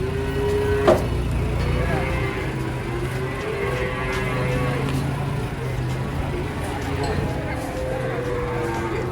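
Cows moo loudly and repeatedly as they are unloaded from a truck at a livestock market, their calls rising over a steady crowd din and engine rumble while people shout and talk nearby.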